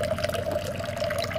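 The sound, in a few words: water trickling in a homemade solar water fountain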